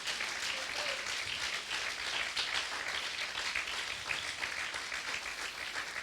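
A church congregation applauding during a Sunday morning sermon, a steady wash of many hands clapping together, sustained and even throughout, heard from a moderate distance.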